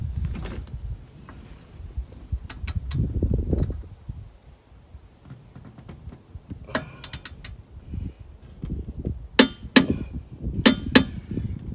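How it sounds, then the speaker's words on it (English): A torque wrench tightens a car's wheel bolt to 125 foot-pounds, heard as scattered sharp metallic clicks and knocks among low handling rustle, close and fairly quiet, with a tight cluster of clicks near the end and no talking. "So really, I'm just gonna torque this down."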